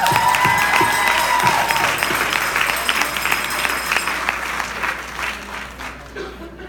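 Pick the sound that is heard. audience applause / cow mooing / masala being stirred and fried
audience applause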